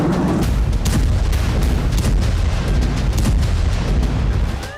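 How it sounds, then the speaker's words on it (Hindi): A bomb explosion in Khan Younis, Gaza, gives a heavy, sustained roar with dense crackling and rumble, loud and continuous before tailing off at the end. "लेकिन सुबह सुबह यहां पर बम का धमाका हो गया।"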